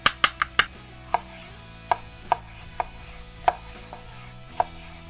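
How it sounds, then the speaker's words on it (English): A knife rough-chops mushrooms on a cutting board while cheesesteak sandwiches are prepared, giving a quick burst of four sharp taps followed by slower, evenly spaced single chops, close and clear with no talking. "Rough chop on the mushrooms."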